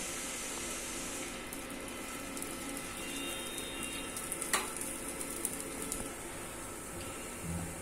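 A mixed dal dosa fries in oil on a pan with a continuous, even sizzling hiss, close and fairly quiet, broken by a couple of faint clicks and no voices.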